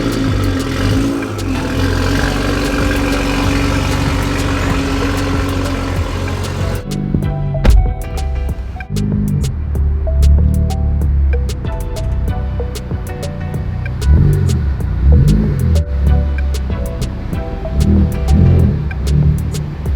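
Ford Focus ST running on a dyno, a steady engine drone and whir with rising revving, then settling into a lower idle with intermittent clatter and clicks, close and loud throughout.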